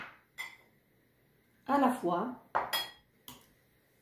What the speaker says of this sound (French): je vais tous les mettre dans un mixeur